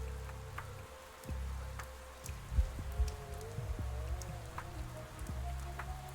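Rain falls in the video game Pathologic 3, a soft steady patter with scattered nearer drips and a few low thuds, fairly quiet, with no talking.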